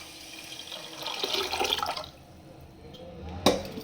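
Water from a small pot being poured into rice and moong dal for pongal, a brief splashing pour in a home kitchen followed by a quieter stretch and a sharp clink near the end.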